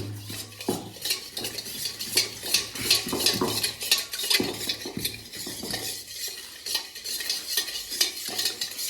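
Shardai drink being stirred and mixed by hand, a steady run of scraping, clinking strokes of utensil against vessel, close and fairly loud, continuing without speech.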